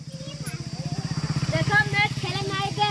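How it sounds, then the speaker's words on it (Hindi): A farm tractor engine idles and chugs in a rapid, even thumping rhythm that stays steady and close throughout, while people talk over it. "अब तो शिवा ने ट्रैक्टर चलावन लगे"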